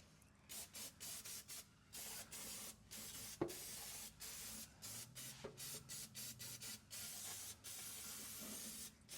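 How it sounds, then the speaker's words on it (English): Short bursts of aerosol spray hissing in a steady on-off rhythm, close and fairly loud, with brief pauses between blasts and a couple of small clanks. "use some of our brake parts cleaner here. Again, we're just spraying things off, cleaning everything up"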